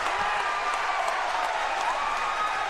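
A high school basketball playoff crowd at Paul VI versus St. Augustine Prep cheers and claps after a reverse layup and foul, a steady, loud roar of applause and voices filling the gym.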